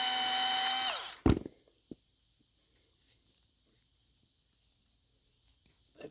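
A power drill bores holes in the wing mount of an Arrma Big Rock 3S RC truck: a loud, close motor whine that stops abruptly after about a second, then a few sharp knocks and faint handling clicks in near silence.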